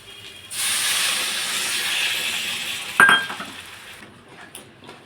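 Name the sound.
water poured into hot fried spices, sizzling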